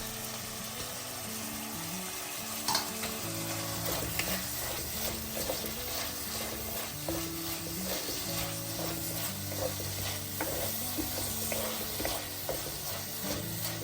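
Ginger and garlic frying in a pan with softened onion and tomato for brinjal masala, a steady close sizzle with frequent stirring clinks and scrapes throughout, no talking.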